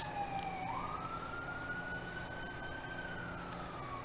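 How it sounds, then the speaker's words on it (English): An ambulance siren wails steadily in the distance, its tone rising and then holding as it passes outside, with no talking over it. "And there goes the ambulance."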